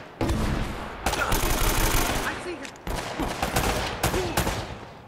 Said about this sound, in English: Oh, never mind, he is shooting me.